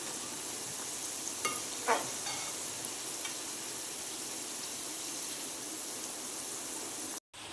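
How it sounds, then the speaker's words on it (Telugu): Ivy gourd (dondakaya) pieces fry in a pan with a steady, close sizzle throughout, broken by a few brief scraping stirs early on; no voices are heard. "ఈ దొండకాయలని కొంచెం బ్రౌన్ కలర్ వచ్చే వరకు అలా ఫ్రై చేసుకోవాలి."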